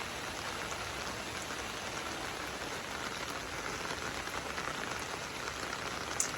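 Steady rain falling on open land, a dense, even hiss of drops with no pauses and no talking, moderately quiet throughout.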